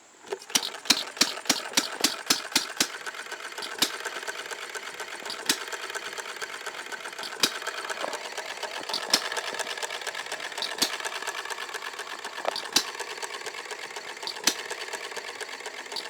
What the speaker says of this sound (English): model hit and miss engine.